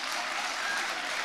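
Audience applause at a Cinderella show, a steady dense patter of clapping from a room full of people, alone and fairly soft for just over a second.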